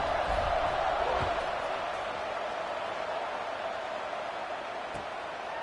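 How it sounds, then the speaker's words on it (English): A football stadium crowd buzzes after a score, a dense, steady roar of many distant voices that holds at an even level throughout, with a couple of faint thuds early on. "this crowd is buzzing after that last score"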